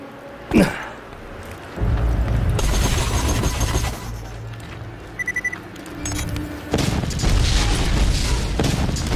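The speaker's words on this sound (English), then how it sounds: "after you blast Boombringer, don't look at the explosion" Boombringer blowing up in Borderlands 2: a short sharp blast followed by sustained loud rumbling and crackling debris, with a second surge of heavy low roar toward the end.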